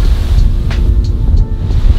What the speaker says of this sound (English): But man, it was so windy outside.